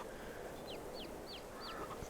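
Chickens in a farming video game give four short, faint chirping calls at a steady, evenly spaced rhythm over a quiet background hiss.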